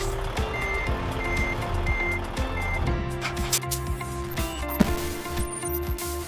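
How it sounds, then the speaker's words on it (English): A truck's reversing alarm beeps steadily and repeatedly as it backs into the intake bay of a KitKat factory, the regular pulses sitting over a constant rumble of machinery. "The truck backs into the intake bay"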